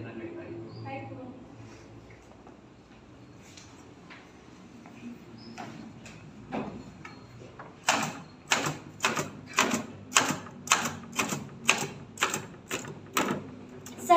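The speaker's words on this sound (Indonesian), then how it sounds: "Sayuti Melik pun mengetik teks tersebut." Manual typewriter typing out a proclamation text: sparse keystrokes at first, then a steady, evenly spaced run of loud clacking strikes, with faint voices underneath at the start.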